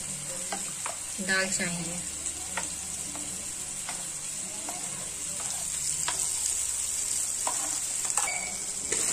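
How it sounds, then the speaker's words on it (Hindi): Masala cooking in oil in a pan for aloo dal gives a steady, close sizzle, with scraping stir strokes scattered through it and a brief voice near the start. "तब तक हमारा यहाँ पे मसाला भी पक रहा है"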